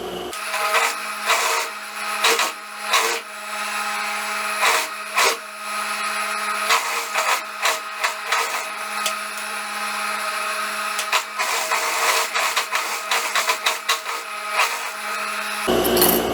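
A sewing machine stitches along the neckline of a long wrap dress in thin fabric, a steady mechanical whirring run with brief stops and restarts, close and fairly loud.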